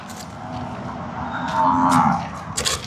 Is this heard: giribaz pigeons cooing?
no